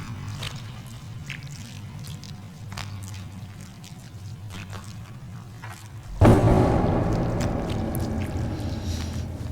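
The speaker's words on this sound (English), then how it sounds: "That is some nasty chewing you got going on there, lady." Wet, squelching chewing in the horror video game Kuon heard from behind a door, faint clicks at first, then a sudden loud, dense burst of mushy mastication that continues steadily.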